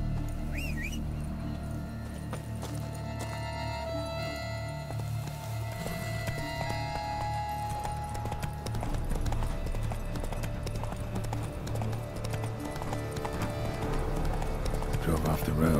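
Roach, Geralt's horse in The Witcher 3: Blood and Wine, gallops with steady clip-clop hoofbeats that run the whole stretch, moderately loud over a dense game score, with brief talk near the start.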